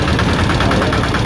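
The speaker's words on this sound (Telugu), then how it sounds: "చూడండి ఫ్రెండ్స్, ఇంజిన్ ఆడుతూ ఉంది." An Ape auto rickshaw engine that has been overheating runs steadily at idle, a loud, close, continuous knocking rumble with no talk over it.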